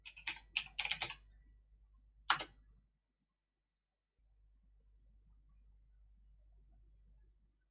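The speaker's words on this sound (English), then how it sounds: "let's type reboot and press enter" A few quick keystrokes tapped on a computer keyboard, close and fairly quiet, the last a single firmer press like hitting enter, followed by near silence and faint hum.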